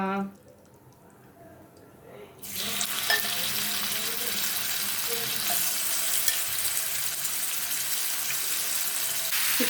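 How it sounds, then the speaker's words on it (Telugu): Chicken pieces shallow frying in a little oil in a pan, a loud steady broadband sizzle that starts abruptly after a quiet couple of seconds and continues unbroken close up. "అంతా స్ప్రెడ్ చేసుకొని అన్ని వైపులా కొంచెం షాలో ఫ్రై చేసేసుకోవాలి."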